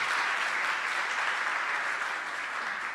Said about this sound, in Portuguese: mais uma salva de palmas para eles também